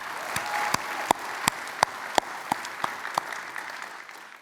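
Scattered claps ring out one by one at a steady pace, roughly ten distinct claps spaced evenly over a quiet room hum at a corporate closing speech, thin rather than a full ovation.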